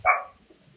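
A dog indoors lets out a single short, sharp bark, fairly close, followed by faint low background sounds.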